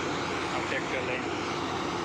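A tractor engine runs at a busy market yard in Jetpur, a loud, steady rumbling drone filling the whole short stretch without pause.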